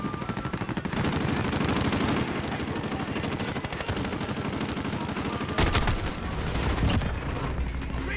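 Sustained light machine gun fire in a first-person video game, a long rapid rattle of shots running nearly continuously with a few short gaps, loud and close throughout.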